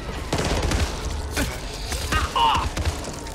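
Gunfire bursts from the Back 4 Blood video game: several short, sharp shots in quick succession, with some game mechanism clicks, heard fairly close.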